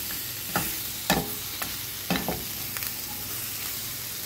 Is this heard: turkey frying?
yes